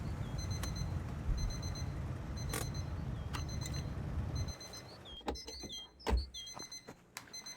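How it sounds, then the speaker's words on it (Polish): An alarm clock in the video game My Winter Car beeps in repeated quick double-tone bursts, clear and steady against quiet room noise, joined later by a few clunks and short chirps. "O, budzik nam piszcze."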